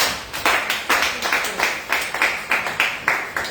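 A church congregation claps together in a steady, even rhythm, about three claps per second, loud and near, with no talking over it.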